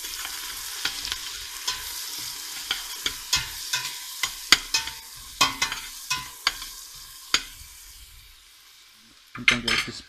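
Onion and garlic frying in a pan for a garlic soup, a soft sizzle under repeated sharp clinks and scrapes of a utensil stirring, close and moderately quiet, with a louder clatter at the end.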